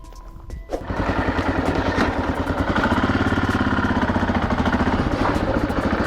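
A 1983 Yamaha XT550 single-cylinder motorcycle fires up after a brief rattle, then settles into a close, steady thumping run with rhythmic pulsing exhaust beats and no talking.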